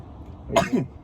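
A single short sneeze bursts out nearby in a quiet room, a quick two-part burst that fades after less than half a second.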